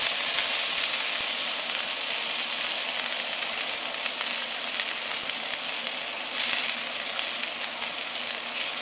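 Smash burger patties sizzle on a hot griddle, a loud, steady crackling hiss that holds without pause, close and alone.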